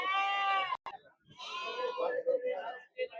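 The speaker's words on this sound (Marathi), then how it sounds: "गावरान शेळ्या आहे." Country goats at a village goat market let out a loud, close bleat, followed by a few shorter calls as people talk nearby.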